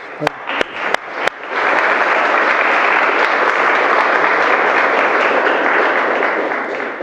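Wedding guests break into loud, sustained applause for the bride, opening with a few sharp individual claps before the whole room joins in a dense, steady roar of clapping that holds for several seconds.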